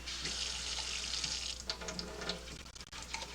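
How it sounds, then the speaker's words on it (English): Cold water runs steadily from a tap with a broad rushing hiss, then the flow changes and splashes unevenly as emptied paste cans fill, with small clinks near the end. "fill each one 3 times with cold water."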